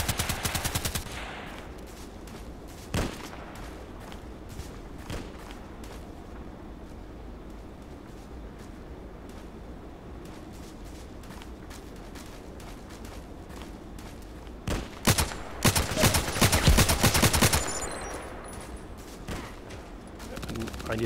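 Gunfire in the online shooter Contract Wars: scattered single shots early, then a dense, loud burst of rapid automatic fire near the end, with a quiet stretch between and a voice talking.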